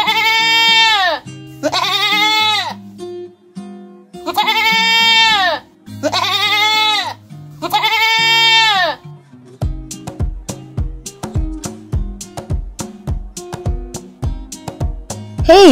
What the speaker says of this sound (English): Goat. And the sound of the goat is...